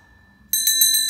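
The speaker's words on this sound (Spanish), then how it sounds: "acompañarme de una campana para darle fuerza" A small, bright bell is struck for emphasis after a moment of near silence, ringing with a clear, shimmering metallic tone and a few rapid pulsing repeats as it sustains.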